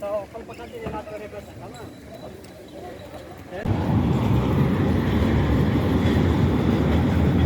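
A tram rumbles past at Beyazıt Square in Istanbul, its noise swelling suddenly into a loud, steady roar with rattling, after a quieter stretch of street ambience.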